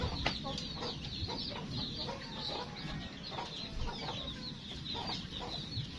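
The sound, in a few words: chickens clucking on a poultry farm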